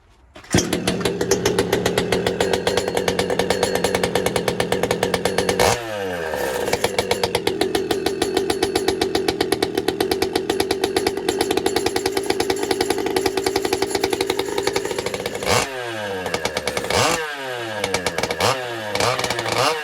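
A Pioneer P-74 chainsaw engine runs loud and steady close by, its drone holding for most of the stretch, with brief dips in revs around the middle and toward the end, and no one talking.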